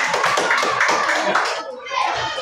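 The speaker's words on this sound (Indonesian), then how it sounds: "Kasih aplaus buat kelompok 2" A classroom of students applauds a student group after its presentation, steady close clapping from many hands for about two seconds with children's voices mixed in.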